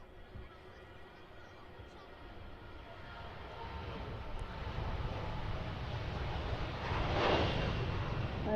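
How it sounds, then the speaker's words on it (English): A Lufthansa airliner bound for Munich takes off at Manchester Airport, a distant low engine roar that swells steadily over several seconds, heard faintly from afar with a person talking over it. "So there the Munich Lufthansa is just about to rotate"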